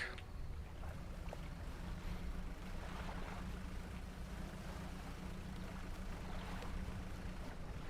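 A fishing boat in Dredge pulls away from the dock and sails out over open water, with a low, steady engine drone under a soft wash of waves and wind, faint and even throughout.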